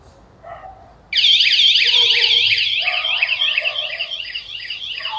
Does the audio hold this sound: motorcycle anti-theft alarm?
yes